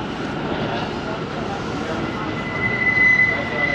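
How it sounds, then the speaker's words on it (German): A New York City subway train at a South Williamsburg, Brooklyn station gives a steady rumbling roar as it pulls in, with a thin high wheel squeal rising near the end, loud and continuous. "Sie kommt gefahren, die U-Bahn."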